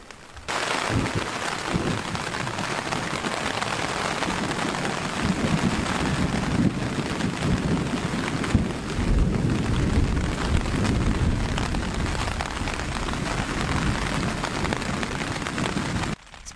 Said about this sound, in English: Rain's dribbling down, hasn't got too heavy yet, and there's quite a bit of rolling thunder